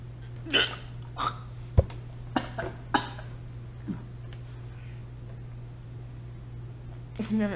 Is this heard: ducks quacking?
no